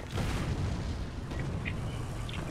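Artillery explosions in a War Thunder tank battle come through as a faint, continuous low rumble of distant booms.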